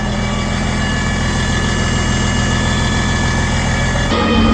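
A truck engine idled up to spin an empty wet kit pump, a loud steady close mechanical drone with a constant hum that changes character abruptly near the end.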